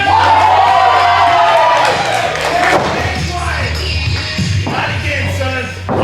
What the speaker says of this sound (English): the crowd is ready to have some fun.